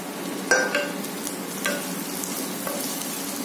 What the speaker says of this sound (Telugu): బాగా కలిపేసేయండి